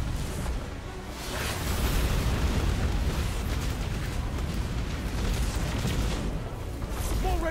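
Missile explosions in Destiny 2, a dense, continuous roar of booming blasts and rumbling debris, loud and sustained with only brief dips.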